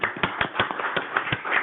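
An audience at a city commission meeting applauds with a steady run of distinct, fairly close hand claps in a quick uneven rhythm.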